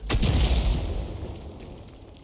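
A single heavy tank gun shell fires in a tank video game, a loud close boom that rumbles and fades over about two seconds.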